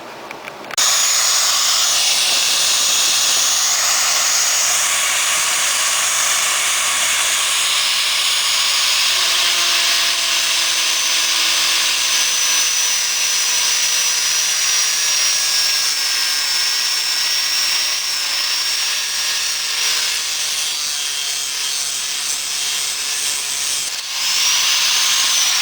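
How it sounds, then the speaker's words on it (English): Angle grinder grinding down the threads on a homemade Ski-Doo clutch puller, a loud continuous metallic whine running steadily for the whole span with slight pitch shifts as the disc bears on the steel. "Just a rough idea on how you would grind that down."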